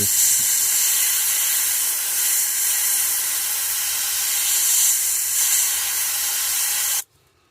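An airbrush sprays paint in a steady, close hiss onto a swim bait, laying a koi pattern, running unbroken for about seven seconds before cutting off abruptly.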